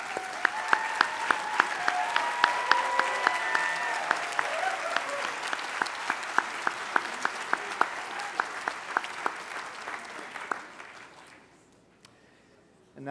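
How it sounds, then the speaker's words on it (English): A commencement ceremony crowd applauds doctoral degree recipients steadily for about ten seconds, a dense clapping that thins and fades out near the end. "Let's have a warm round of applause for all of our doctoral degree recipients."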